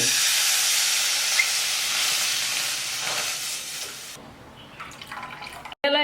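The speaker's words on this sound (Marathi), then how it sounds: "आपल्या खीर खिरीला उकळी आली" Half a litre of milk for vermicelli kheer bubbling and hissing in a pan on the stove, steady and loud, then thinning into softer bubbling with a short clatter near the end.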